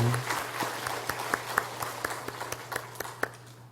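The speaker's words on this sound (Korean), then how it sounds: "우리 큰 박수로 환영하겠습니다" A church congregation at a Korean Sunday worship service claps in welcome, a close patter of individual handclaps that stays lively at first and then slowly thins out.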